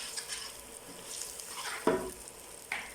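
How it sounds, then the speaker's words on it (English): Spices with coriander powder fry in a pan, a soft steady sizzle with light stirring scrapes, and a sharper clack near the end, with no one speaking. "So I'm just going to fry this together for a couple of minutes before adding in the spinach."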